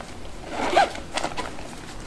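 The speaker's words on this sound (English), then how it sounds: "And I'll zip this up." A zipper is pulled shut on a hiking backpack. Two quick, close zipping strokes sound softly against a quiet background.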